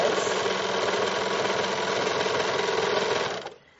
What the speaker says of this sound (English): You'll come over to your serger, and you'll do the rolled hem.